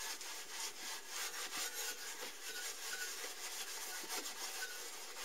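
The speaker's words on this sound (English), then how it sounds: "What I normally use is a scouring pad and a bit of Windoline" A scouring pad scrubs a narrowboat's stove with Windoline, giving steady rhythmic rasping strokes, close and moderately loud, with no voices.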